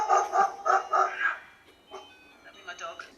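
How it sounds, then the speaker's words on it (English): A dog barks close by in a home, four or five loud quick barks in a row, then a pause and a few softer yips. "now the dog's barking"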